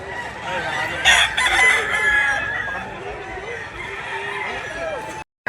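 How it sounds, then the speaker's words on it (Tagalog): Chickens and roosters at a Philippine poultry market, several cocks crowing in overlapping calls over a steady din of clucking fowl, loud and close, with a short break near the end. "Yan ang latag ng manok dito mga bossing."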